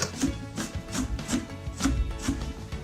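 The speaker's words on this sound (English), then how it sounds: "Chop up my onions so that they are ready." Onions are chopped with a knife on a board, giving a steady run of crisp, evenly spaced cuts, close and fairly quiet, with no voices.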